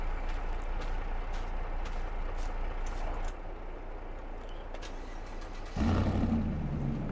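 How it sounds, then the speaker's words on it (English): A pickup truck in Farming Simulator 22 rumbles along with a steady engine drone that swells louder and deeper near the end, with faint clicks above it. "I gotta move that truck a little bit."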